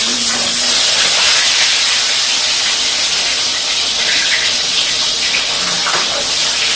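Hotdogs fry in a pan over a gas flame, giving off a loud, continuous bright sizzle and hiss that stays close and steady throughout.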